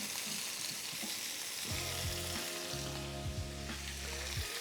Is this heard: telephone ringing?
no